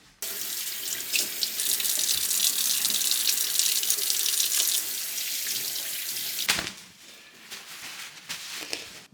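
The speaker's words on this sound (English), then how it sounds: "I'm gonna wash my hands a little bit." Hands washed under a running kitchen tap, with a steady broadband rush of water for about six and a half seconds, then the flow stops and faint drips and handling noises follow.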